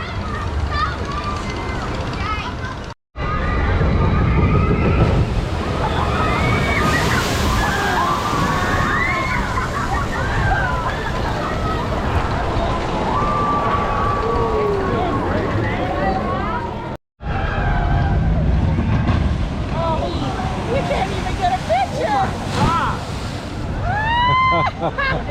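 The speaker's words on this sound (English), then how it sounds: "wait for the next boat to come along and splash you" A log flume boat on the Snake River Falls ride at Cedar Point plunges through water, sending loud, sustained sloshing and splashing across the area, with wind buffeting and crowd voices mixed in.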